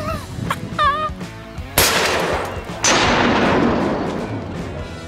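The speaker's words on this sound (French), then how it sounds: "Allez, le tir sur la tôle." A potato cannon fires a golf ball at sheet metal: two sharp, loud blasts a second apart, each ringing on briefly, after a few short vocal sounds.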